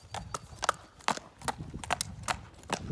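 A horse's hooves clip-clop in a quick, regular trot during a riding lesson, each footfall a distinct, fairly close strike with faint ambient noise between beats.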